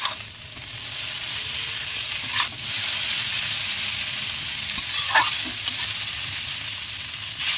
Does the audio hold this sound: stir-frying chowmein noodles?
yes